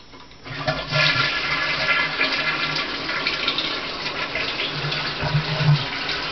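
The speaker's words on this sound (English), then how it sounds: "Now it's time to flush." A household toilet flushes loudly and close by, a steady rush of water that runs for several seconds with gurgling swells near the end, and no voices.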